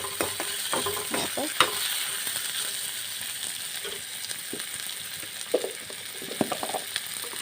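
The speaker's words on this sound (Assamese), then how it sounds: "অলপ ব্ৰাউন কালাৰ হোৱালৈকে মই পিঁয়াজখিনি ভাজি ল'ম।" Onions with a green chilli frying in a hot pan until lightly browned hiss steadily up close, with intermittent scraping and clacking of a spatula stirring them, and no talking.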